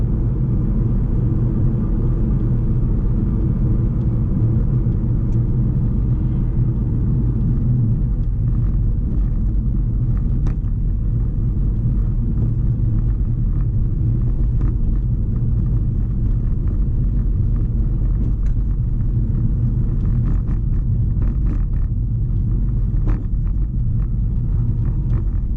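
A car drives at 50 mph on roads in Suffolk, with a loud continuous low engine and road rumble heard from inside the cabin, steady throughout with occasional small knocks.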